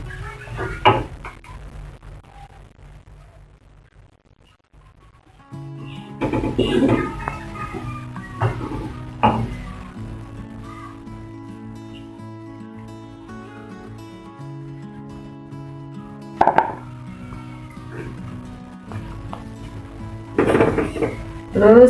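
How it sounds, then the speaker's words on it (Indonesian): Pieces of snapper fish dropped one at a time into a simmering Padang-style gulai curry, with scattered clinks and scrapes of a spoon or spatula against the pot between quieter stretches of low hum. "Masukin satu-satu ya bun, sambil mengaduk."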